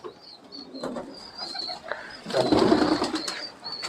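Pigeons in a breeder loft setup coo softly in low, throaty bursts amid steady background chatter of other birds, with a louder rustling swell near the end.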